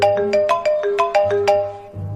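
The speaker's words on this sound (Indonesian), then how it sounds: "Saya akan menjawab telepon dulu" A telephone ringtone chimes out loudly and close, a quick run of bright, repeating electronic notes in a bouncy melody that stops after about two seconds.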